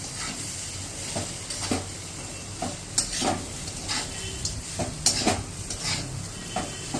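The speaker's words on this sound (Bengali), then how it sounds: "একটুক্ষণ করে নাড়াচাড়া করে দিলেই ছেড়ে যাবে" Vermicelli upma stirred in a pan, a steady frying sizzle broken by repeated scraping strokes of a spoon against the pan, with occasional light clinks of metal, close and fairly loud, no voices.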